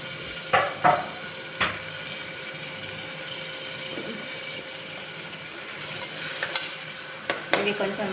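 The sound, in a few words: chopped onion frying in oil for mutton curry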